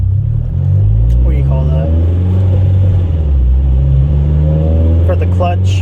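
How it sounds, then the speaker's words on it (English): Engine of a 9th generation Honda Civic Si revving steadily through its VTEC crossover while driving, a loud continuous drone inside the cabin, with a person talking over it. "just to show you this VTEC crossover"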